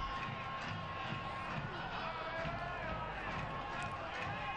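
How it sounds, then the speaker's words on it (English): A crowd at a night USL soccer match in Colorado Springs keeps up a constant distant roar and chatter, a dense unbroken wash of voices with no distinct peaks. "Crowd making a lot of noise tonight."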